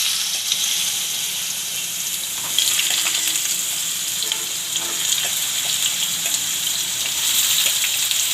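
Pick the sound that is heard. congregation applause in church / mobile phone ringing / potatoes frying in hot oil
potatoes frying in hot oil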